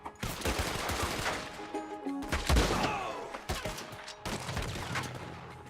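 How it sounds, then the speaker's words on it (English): Rifle shots ring out in Red Dead Redemption 2, with a cluster of sharp cracks and a heavy thump near the middle. Shorter reports follow in a broken rhythm, fairly quiet overall. "I thought shooting with the sniper rifle would one-shot these guys sometimes."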